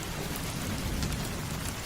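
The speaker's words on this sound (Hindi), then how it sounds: "लेकिन चलते चलते अचानक तेज बारिश शुरू हो गई।" Heavy rain pours steadily on a rainy night, a dense unbroken wash of drops at an even loudness with no voices.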